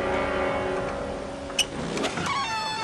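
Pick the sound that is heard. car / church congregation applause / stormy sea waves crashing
car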